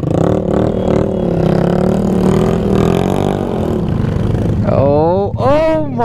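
A Honda Grom motorcycle climbing a steep jungle trail, its engine droning loud and close without a break, then rising into a strained, climbing whine near the end.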